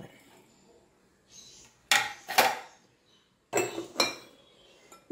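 Chicken is stirred with Kashmiri chilli powder and pepper in a bowl, giving two short bursts of clinking and scraping from a utensil against the dish, separated by quiet pauses.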